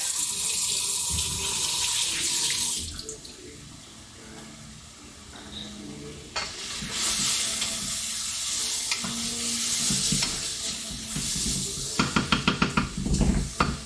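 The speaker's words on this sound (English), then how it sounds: "Another hand wash." Hands washed under a running kitchen tap, water splashing steadily into the sink, with a short pause and then more rushing water and some clattering toward the end.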